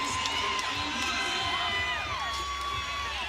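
A crowd cheering at a college gymnastics meet between Clemson and Penn State, a loud, sustained roar of shouts and whoops filling the arena, with a commentator talking over it.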